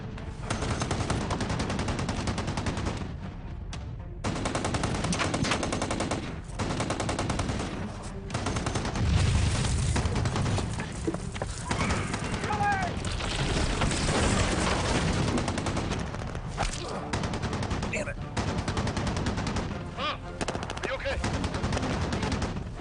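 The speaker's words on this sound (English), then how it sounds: "Keep firing that gun." Machine guns and other gunfire rattle through an action film battle scene, loud, dense sustained bursts with heavy booms layered over one another, shouting voices mixed in beneath the barrage.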